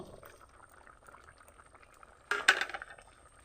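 Rohu fish and potato curry simmers quietly in a pot, a faint bubbling murmur, then a short louder burst of bubbling and stirring clatter near the end.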